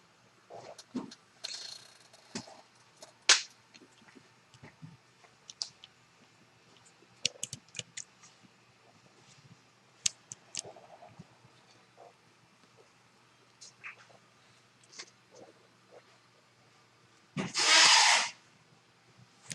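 Echo1 GAT airsoft gearbox parts being fitted together by hand, scattered close plastic clicks, taps and small rattles with quiet gaps, ending in a short burst of hiss.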